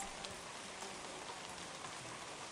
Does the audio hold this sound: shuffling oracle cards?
no